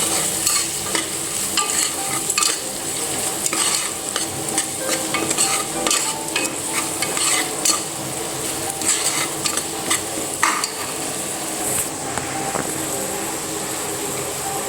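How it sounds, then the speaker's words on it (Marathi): Ground spices and garam masala sizzling in hot oil in a pan for khichdi, with steady frying hiss and repeated clinks and scrapes of a spoon stirring, close and continuous without talk. "गरम मसाल्यानं व्यवस्थित आपण फ्राय करून घेऊ"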